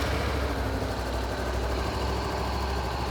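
A 2014 Honda CBR500R motorcycle engine idles steadily and evenly, a continuous close rumble with no start-up surge or voices.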